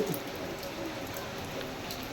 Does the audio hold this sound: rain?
yes